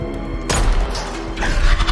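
A pistol is fired into the air in the film A Quiet Place Part II, a single sudden loud crack followed by a booming, rumbling tail, with a second burst of noise a moment later.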